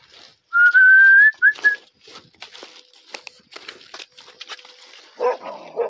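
Herding dogs bark around a cow on a buffalo farm. A sharp rising whistle opens, followed by scattered rustling and bark-like bursts, with one louder bark near the end.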